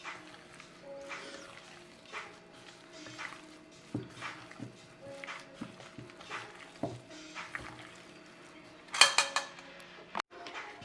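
Chicken being mixed with spices in a bowl for Cuban chicken fricassee, soft intermittent clinks and scrapes of utensil against the bowl, with a few sharper knocks near the end, close and fairly quiet.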